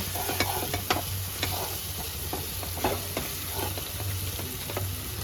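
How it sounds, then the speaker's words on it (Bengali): Spice paste with a spoonful of coriander powder is stir-fried for a chicken dish, a soft sizzle under repeated sharp spatula scrapes and taps on the pan, with a low steady hum behind and no talking. "এক চামচ ধনের গুঁড়ো ভালো করে মশলাটাকে কষিয়ে নেব"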